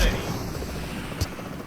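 A helicopter in the mobile game PUBG Mobile gives a steady rotor chop and engine drone that fills the short stretch at an even level, with one brief thump near the end.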